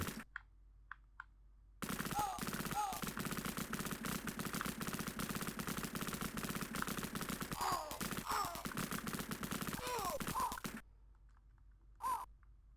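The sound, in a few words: gunfire from soldiers shooting in Cannon Fodder video game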